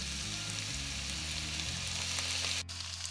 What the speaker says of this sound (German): Unsere Zwiebeln sind nun schön angeschmort, wie ihr seht.